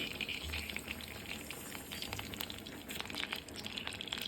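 Mustard seeds fry in hot oil for a cabbage palya, giving a steady, fairly quiet crackling sizzle with scattered tiny pops throughout and no voices.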